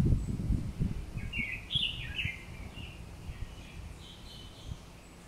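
A small crested bird in Mauritius gives a few short, high chirps in the middle distance, with low rustling and handling noise close by.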